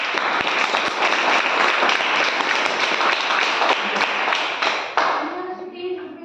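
A debate-practice audience claps in a dense, steady burst for about five seconds, then thins and fades out. A voice murmurs faintly underneath.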